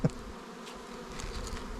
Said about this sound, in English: this is the new bunch of bees